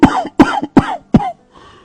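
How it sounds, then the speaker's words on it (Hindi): An old man lying on a cot coughs four times in quick succession, loud and close, each a harsh rasping burst, followed by a faint wheezy breath. "तभी खटिये पर से बूढ़ा रामा खांसते हुए बोला,"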